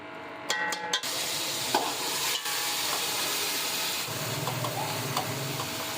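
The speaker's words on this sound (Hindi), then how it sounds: "इसको हम रख देंगे चूल्हे पे और इसको हम भूनेंगे तकरीबन 2 से 3 मिनट के लिए" Garlic ginger paste frying over high heat in a pot for a Hyderabadi beef pulao, a steady close sizzle with scraping stir strokes and a few sharp clinks near the start.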